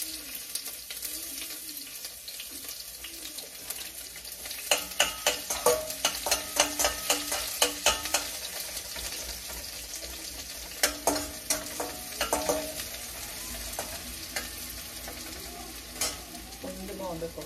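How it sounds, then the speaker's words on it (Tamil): Chopped onions hit hot oil in a home kitchen pan and sizzle steadily, with a spoon scraping and stirring in bursts of clinks over a running-water hiss nearby. "வெங்காயம் போட்டுக்கலாம்."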